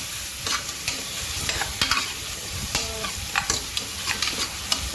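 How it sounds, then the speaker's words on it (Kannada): Tomatoes and green chillies frying in a pan for a Kerala-style pork curry, giving a continuous close sizzle with scattered clicks and scrapes from a stirring spoon and no speech. "ಈಗ ಅದಕ್ಕೆ ಟೊಮೆಟೊ ಮತ್ತು ಹಸಿಮೆಣಸಿನಕಾಯಿ ಹಾಕಿ ಸ್ವಲ್ಪ ಫ್ರೈ ಮಾಡಬೇಕು."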